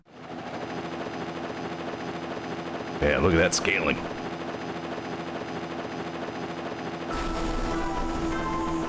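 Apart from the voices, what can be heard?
transport helicopter approaching in video game Mega Man Zero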